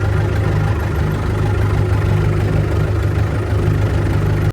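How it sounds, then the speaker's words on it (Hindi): Tractor engine idling close by, a loud steady low rumble with constant chugging vibration throughout, no talk over it. "अल्हम्दुलिल्लाह ट्रैक्टर मैंने निकाल लिया है बाहर"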